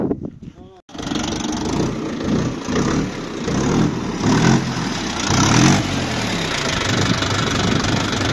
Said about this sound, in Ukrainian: Це ізумітельний китайський трактор.